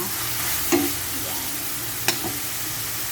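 Tomatoes cook and get mashed in a frying pan with a constant close sizzle, broken by two sharp utensil taps against the pan and soft scraping stirs.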